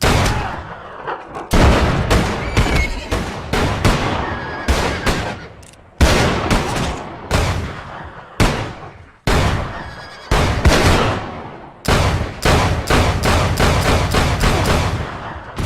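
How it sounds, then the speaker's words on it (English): Rapid, loud gunshots ring out one after another in a Western movie shootout, with sharp repeated cracks and echoing tails in an irregular volley. "The biggest trope of all is the shootout."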